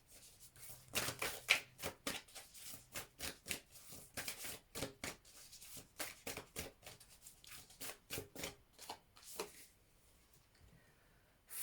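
A Moonology oracle card deck is shuffled by hand, giving a long run of quick, crisp riffling and flicking bursts in an even rhythm, close and fairly quiet, with no talking.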